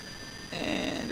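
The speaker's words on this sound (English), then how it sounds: "Engine number 1 is coming online." Jet airliner engine spooling up in Microsoft Flight Simulator 2020, a faint tonal whine that abruptly thickens into a louder roar with rising hum, steady and close, no talk over it.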